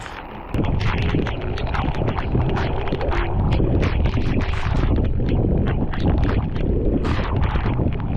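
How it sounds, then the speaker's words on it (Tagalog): Strong, steady wind roaring across the microphone on a paddleboard in heavy rain, loud and continuous, with some splashing and rattling underneath. "ang lakas ng hangin."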